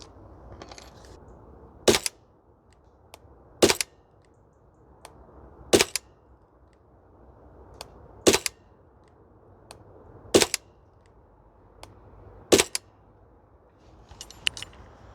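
Maruyama MP9 airsoft gun fired on a cold outdoor range, fitted with a suppressor: six or seven sharp cracking single shots spaced a couple of seconds apart, fairly close, over quiet outdoor background.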